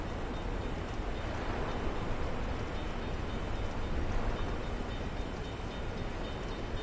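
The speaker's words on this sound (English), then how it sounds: "Those are clearly train track sound effects." Train track sound effects in the Dark Souls 2 video game, a continuous rumbling, clattering roar that stays steady and fairly loud for several seconds with no voices.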